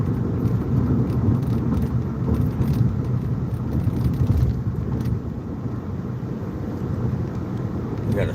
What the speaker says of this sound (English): This big rig just slowed down to let a police truck go in.